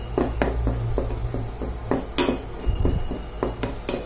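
Face pack powder being mixed in a bowl, a spoon clinking and scraping against the sides in a steady series of light taps, close and alone without talk.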